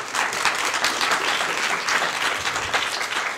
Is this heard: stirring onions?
no